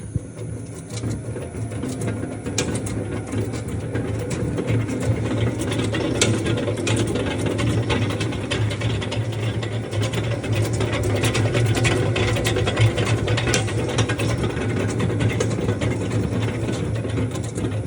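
Jeremy MIXA60 planetary dough mixer running empty after start, a steady mechanical whir with faint ticking and gear rattle, close and continuous with no talk.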